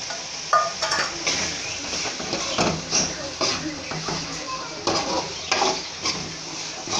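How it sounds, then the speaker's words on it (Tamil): A spatula stirs egg frying in a pan for egg chilli, with repeated scraping and clinking strokes against the pan over a steady sizzle, close and fairly loud. "அந்த முட்டையை சேர்த்துக்கலாம்."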